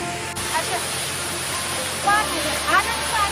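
Ranthi waterfall roars as a steady, loud rush of falling water close by, with people talking over it.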